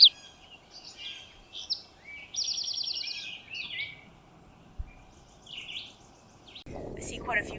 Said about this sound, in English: I hear a titmouse. I've heard some eastern towhees.